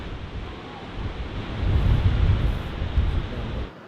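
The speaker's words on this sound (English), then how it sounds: "This is the first waterfall, right next to the airport." Waterfall beside the airport in the Faroe Islands roars as a steady broadband rush, mixed with gusty wind buffeting the microphone, swelling louder midway before easing off.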